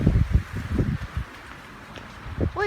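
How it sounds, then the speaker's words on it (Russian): Gusty wind in Antalya on a warm May day buffets the microphone outdoors in a series of low, uneven rumbling bursts, with a brief voice-like tone near the end. "Видите, какой ветер?"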